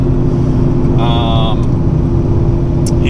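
A Foxbody Mustang with a 5.0 small-block Ford V8 and Comp Cam XE266HR camshaft accelerates hard through second gear, a loud continuous engine roar that stays steady, with a brief high whine near the middle.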